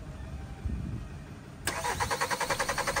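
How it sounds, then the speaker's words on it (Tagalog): A Hyundai Santa Fe that will not start has its engine cranked: a steady rhythmic starter whir with regular pulsing, beginning abruptly partway through after a quieter low rumble, close and moderately loud. "i-check natin ang engine kung ano yung kahimtang"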